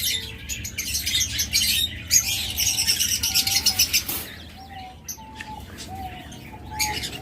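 Quails chirp and call in short, repeated bursts over a steady background hiss, with several thin tweets scattered throughout.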